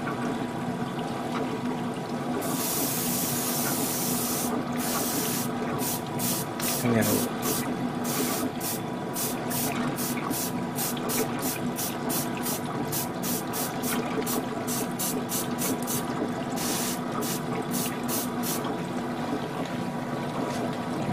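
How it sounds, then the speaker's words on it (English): Airbrush spraying paint onto an HG Gelgoog Menace Gundam plastic model, a steady hiss broken into many short repeated bursts over a constant background hum. "Check my airbrush a bit. Make sure it's okay."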